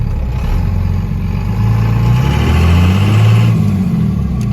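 A 2nd Gen Cummins diesel truck engine, freshly swapped to a manual transmission, rumbles loudly up close, its deep steady drone rising briefly in revs midway before settling.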